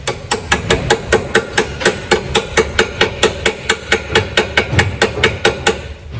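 Impact wrench hammering on a 2006 Honda Civic Si front lower control arm bolt, a loud, fast, evenly spaced rattle of blows close up that runs the whole time with no talking.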